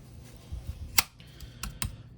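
Small scissors on a customized Victorinox Swiss Army knife snap shut with a few crisp, quiet clicks, one distinctly sharper, close up in a quiet room.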